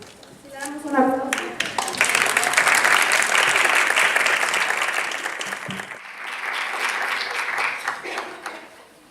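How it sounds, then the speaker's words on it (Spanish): A conference audience breaks into applause after an introduction, with a voice speaking at the start, then dense clapping that holds for several seconds before thinning and trailing off. "Le damos un aplauso."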